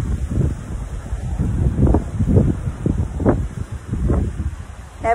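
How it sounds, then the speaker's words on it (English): Wind gusts blow across an outdoor lake with waves, heard as buffeting wind noise on the microphone and repeated rushing surges of rustle and lapping water, fairly close. "Maybe you can hear the waves and the wind."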